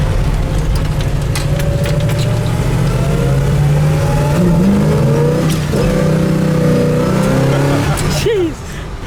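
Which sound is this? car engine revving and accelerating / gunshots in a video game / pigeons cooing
car engine revving and accelerating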